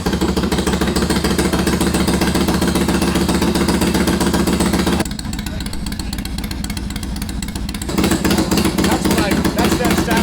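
A 1993 Harley-Davidson FXLR fitted with a vintage Kerker exhaust runs at a steady, loud, throbbing idle nearby, dips briefly in level midway, then resumes its full rumble.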